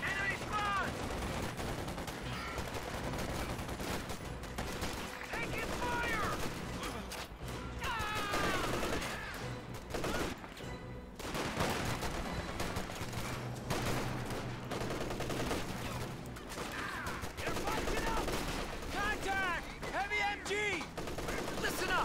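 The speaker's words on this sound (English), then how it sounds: "Looks like the rear echelon squad is getting suppressed by this MG34." An MG34 machine gun fires long suppressive bursts in the WWII strategy game Company of Heroes 2, with other gunfire and combat noise layered densely around it throughout.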